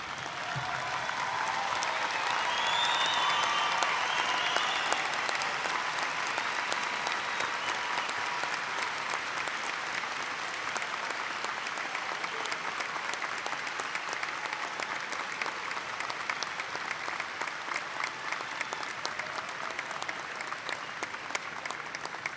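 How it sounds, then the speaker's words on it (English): A large commencement audience at Murray State University applauds newly commissioned Army second lieutenants. The clapping is long and sustained, swelling early and then settling into a dense, even roar that fills the hall. "Would you please stand with me and give each of these a round of applause?"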